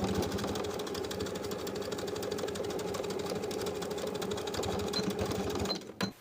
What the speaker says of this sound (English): we're going to sew from this bottom inner edge of the pocket flap from one side straight across to the other